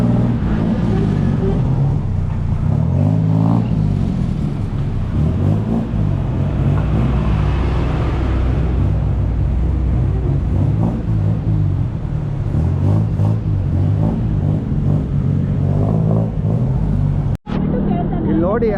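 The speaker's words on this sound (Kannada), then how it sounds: "ಫುಲ್ ಇಲ್ಲಿ ಆಟೋಗಳದ್ದು ಎಕ್ಸಾಸ್ಟ್ ಕೇಳಿಸ್ಕೊಳ್ಳಿ ಹೆಂಗೆ" Auto rickshaw (tuk-tuk) engines and exhausts rumble and rev steadily through dense Bangkok traffic, a loud continuous low drone with passing vehicles and a sharp knock near the end.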